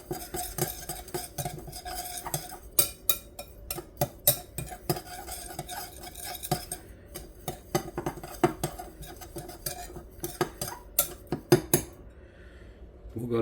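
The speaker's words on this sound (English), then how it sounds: "stir this up really good" A utensil stirs a pork chop and apple mixture in a Lodge skillet, giving repeated scraping clinks against the pan in an irregular rhythm, close and clear with a faint sizzle beneath.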